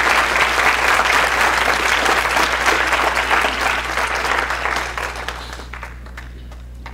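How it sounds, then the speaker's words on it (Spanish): An audience at a social sciences week panel applauds to welcome a professor, dense loud clapping that holds steady for several seconds, then thins out and fades to a few scattered claps. "le pido a nuestro público que le brindemos un fuertísimo aplauso"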